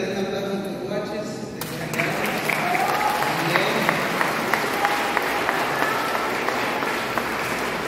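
Applause from a gathering of pilgrims in San Pedro, Michoacán, praising a children's liturgy team, swelling into a steady, dense clapping that fills the space, with voices and shouts mixed in.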